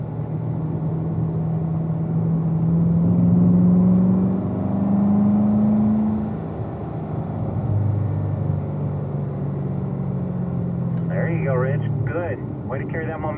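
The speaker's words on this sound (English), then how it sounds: "you can really start to squeeze into that throttle and accelerate" A car engine drones and rises in pitch as it accelerates after a paddle downshift to fourth gear, a loud steady rumble that swells and falls, with a brief higher whine near the end.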